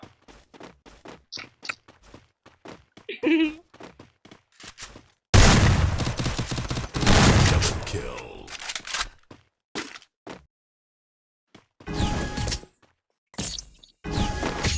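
Gunfire in a shooter video game, loud crackling bursts of rapid shots with a long dense volley in the middle and more bursts near the end, mixed with scattered clicks and voices.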